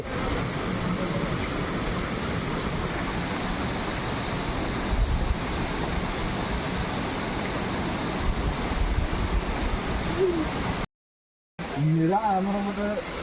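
A steady, broad roar of rushing water from Seetharkundu waterfall in Palakkad fills the whole clip, with wind buffeting the microphone and faint voices in the background.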